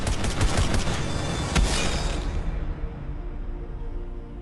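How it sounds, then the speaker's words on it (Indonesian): Dense, rapid automatic gunfire from an action film shootout, a loud continuous volley of overlapping shots that cuts off abruptly after a couple of seconds, leaving a fading rumble. "Barney langsung menembakkan beberapa peluru disertai dengan pisau yang dilempar oleh Christmas."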